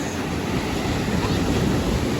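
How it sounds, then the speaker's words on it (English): Surf rolls in on the shore at Vero Beach, an even, continuous wash of breaking ocean waves with some wind noise and no clear voices. "look at this ocean again"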